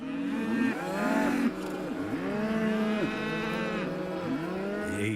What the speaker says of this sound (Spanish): Se encontró con una vaca que obviamente estaba muy alterada